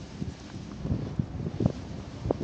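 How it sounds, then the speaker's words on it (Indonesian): Strong wind at a wind farm buffets the microphone in a constant low roar with gusty surges, and no talk is heard. "Di bagian sini anginnya sangat kencang ya."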